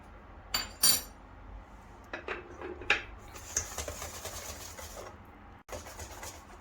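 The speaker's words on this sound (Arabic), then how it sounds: "ونستمر بالخفق لحتى انه ما نقدر نخفق فيها" A hand whisk beats a salted batter in a bowl for a pan-fried chicken-filled pie, giving quiet, irregular metallic clinks and scrapes with a few sharper knocks against the bowl.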